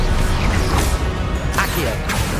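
Spell effects for Confringo, Expelliarmus and Incendio cast in the Hogwarts Legacy video game, quick swooshes and sharp cracking hits over a thick, noisy battle background.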